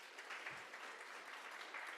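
Audience clapping for a judge being introduced at a school oratorical competition, a steady even patter of many hands, faint and distant in a hall.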